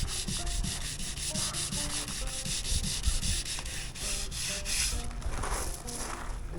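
Sandpaper rubbing over the body and mud-caked fenders of an old Rambler car, a loud, continuous rhythmic scraping with no talk.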